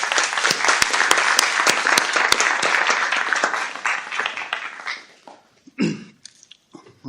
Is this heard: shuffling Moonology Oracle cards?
no